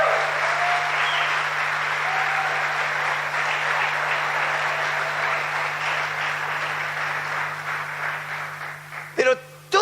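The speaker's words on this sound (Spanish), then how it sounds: "Denle un aplauso a Dios." A church congregation applauds in a long, even burst of clapping that holds steady for several seconds before thinning, with a few sharp knocks near the end.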